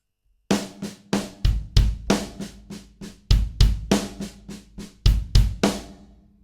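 A drum fill with accents, the right hand playing the X-hat doubled by the bass drum: a steady run of sharp, loud hits with heavier accented strokes, close and alone with no talking.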